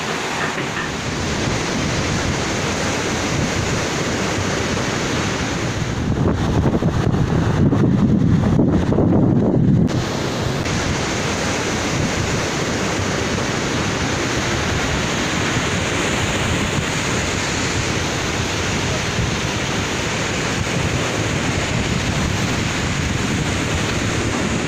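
Sea waves break on a beach where fishing boats are parked, a continuous rushing surf roar with wind buffeting the microphone and a louder swell in the middle.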